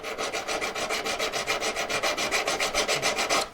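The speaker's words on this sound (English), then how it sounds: "keep filing, putting weight on the back of the piece as well" Hand file working a metal V-claw piece, a fast even run of about twenty rasping strokes, loud and close, with no speech.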